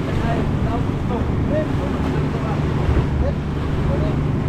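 Big ocean waves wash around a small boat in rough weather, with steady wind buffeting the microphone and occasional splashes under the continuous surf noise.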